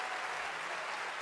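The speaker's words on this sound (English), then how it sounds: "On va vous demander un dernier salut et on les applaudit bien fort." A crowd at a fencing World Cup in Orléans applauds the French women's sabre team, a dense, steady wash of many hands clapping with no speech.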